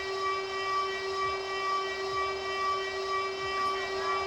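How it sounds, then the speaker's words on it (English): A loud siren at an indoor football game, a steady sustained wail with strong tones that holds level and continuous, with no voices over it. "And that siren is very loud."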